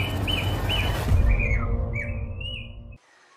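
Javan pied starlings, or jalak suren, in breeding cages, giving repeated loud whistled and chirping calls close by over a rumbling background that cuts off abruptly.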